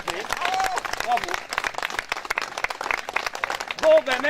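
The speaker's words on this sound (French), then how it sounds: "Bravo, on peut l'applaudir déjà ce canapé." Street-theatre audience applauding a moving sofa during an itinerant show, steady clapping mixed with loud voices and cheers from people close by throughout.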